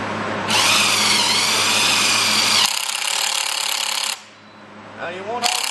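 A power drill drives self-tapping screws while door weather stripping is being fitted. It gives loud, whining bursts that rise and fall in pitch, with short pauses and a final quick spin.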